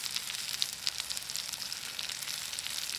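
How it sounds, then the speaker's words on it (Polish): Sausage, mushrooms and onion sizzle steadily in a pan over a campfire, a dense continuous crackling hiss with small pops, close and fairly even throughout. "zaczniemy już tutaj ładować do tego kiełbaskę. Troszkę pieczarek z cebulką"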